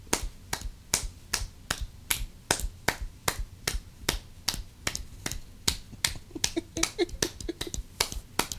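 A run of close, dry finger snaps used as applause keeps up a fairly steady beat, then grows busier and more overlapping near the end.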